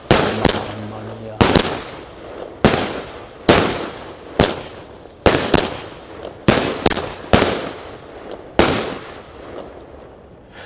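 A daytime fireworks cake of 25 mm Polish shots fires about a dozen sharp, loud bangs at irregular intervals, each followed by a short decaying crackle, with faint talk early on.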